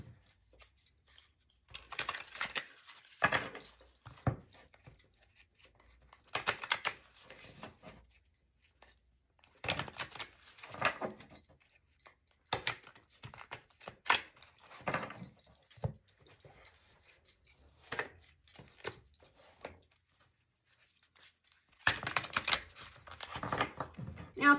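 Repeated bursts of papery riffling and snapping, like a deck being shuffled, come in several separate rounds with short quiet pauses between them, close and fairly soft.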